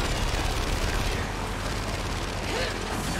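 Dense, constant gunfire and mechanical clatter from the co-op video game Gears 5, a loud unbroken wash of sound with no clear separate shots.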